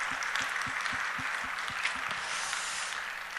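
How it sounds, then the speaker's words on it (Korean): Church congregation clapping during a service, moderately quiet and diffuse, with a regular low thumping pulse running underneath the claps. "박수 한번 하겠습니다"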